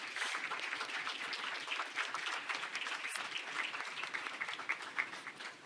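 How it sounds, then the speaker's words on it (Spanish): Audience applause for a discussion panel at a diversity conference talk, a steady patter of many hands clapping, faint and distant, lasting the whole stretch without speech. "Propongo un nuevo aplauso para el panel."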